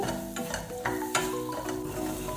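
Chili and potato pieces sizzle gently in a pan of oil on low heat, with a few soft scraping stirs of a spoon and light crackling throughout.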